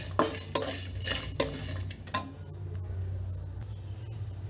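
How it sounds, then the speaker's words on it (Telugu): Coriander seeds, cinnamon and cloves dry-roasting over low flame in a pan, stirred with a spoon in a few distinct scraping strokes early on, then a quieter steady background; close and fairly faint, no talk. "1 టేబుల్ స్పూన్ ధనియాలండి లో ఫ్లేమ్లోనే వేయించుకోవాలండి మాడకుండా ఇందులోనే దాల్చిన చెక్క లవంగాలు వేస్తామండి"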